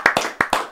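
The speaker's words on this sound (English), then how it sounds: "Can I get a round of applause?" A few sharp hand claps in an uneven rhythm, close and fairly loud, opening a UK rap podcast episode with no talk over them.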